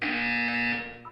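A loud, steady buzzer tone from the Portal 2 video game sounds alone for about a second, then cuts off.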